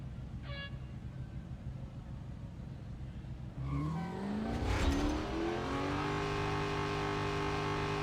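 A race car engine roars during a drag race in the Real Racing 3 video game, rising sharply as the car accelerates, climbing and shifting through gears in a steady, loud whine with tire noise underneath.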